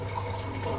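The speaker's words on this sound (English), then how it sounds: "I'm going to try and tip some water out." Water tipped out of a pot of ramen noodles, a short steady splashing pour heard close up with no talk.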